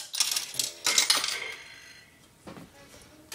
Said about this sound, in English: I'll deposit a coin. Quarters are hardest to hear.